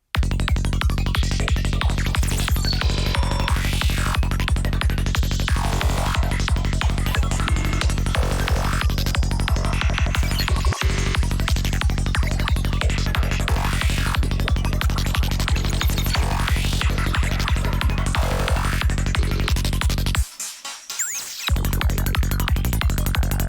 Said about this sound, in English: So by just creatively activating these beat repeats here, we now get something that sounds like this.